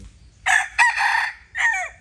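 A rooster crows nearby in a rural Thai setting, a loud strained call broken into a long drawn-out phrase and a shorter trailing note, with no talking over it.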